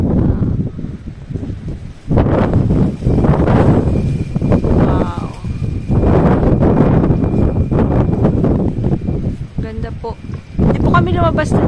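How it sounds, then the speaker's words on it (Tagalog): Strong wind buffets the microphone outdoors with low rumbling gusts, while people talk loudly over it throughout. "It's very windy."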